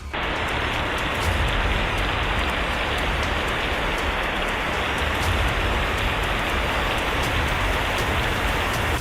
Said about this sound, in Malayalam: ഉരുൾപൊട്ടലിന്റെ തലേ ദിവസം ശക്തമായ മഴ പെയ്യുന്നതിന്റെ കാഴ്ചയാണ് വീഡിയോയിലുള്ളത്.